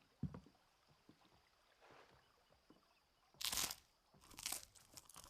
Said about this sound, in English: Satisfied munching.